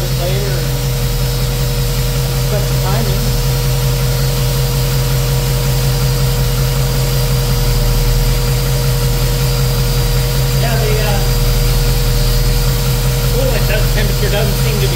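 A Ford 393W stroker V8 in a 1969 Mustang runs steadily on its first start, a loud continuous drone with a constant low hum and no clear change in pace.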